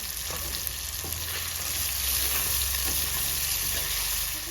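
Fish curry ingredients with salt stirred in a hot frying pan, a steady loud sizzle with faint repeated scrapes of the spatula underneath, close up and continuous, no voices.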